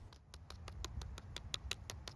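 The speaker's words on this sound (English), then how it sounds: "that is the sound of one very stiff diaphragm" A stiff carburetor metering diaphragm from a Homelite string trimmer that won't start is flexed by hand up close, giving about a dozen crisp, evenly spaced crackling clicks with no talking.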